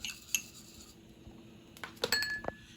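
A spoon stirs salt, pepper and garlic powder in a small dish with quiet clinks and taps. The sound is light and faint, gathering into a cluster of sharper chinks near the end.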